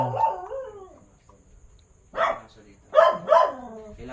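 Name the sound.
dog barking in old ancestral house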